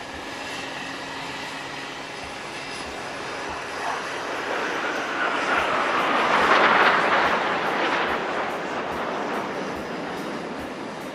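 Military jets flying in victory formation at the Aero India air show in Bengaluru, a broad roaring engine rumble that swells to a loud peak midway as the aircraft pass, then slowly fades.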